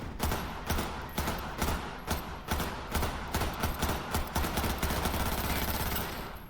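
Rapid automatic gunfire in Cyberpunk 2077 crackles in long, dense bursts, loud and sharp, with no talking.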